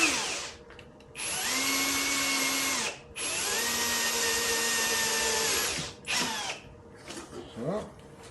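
Power drill boring a hole for a custom Kriega OS mount on an Adventure Spec luggage rack of a KTM 690 Enduro R, two long steady whining bursts with a brief third burst, loud and close, then quiet handling noises.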